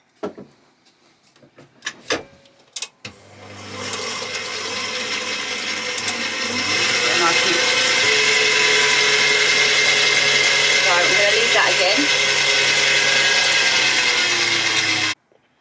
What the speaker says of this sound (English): Then we whisk again until it's nice and thick.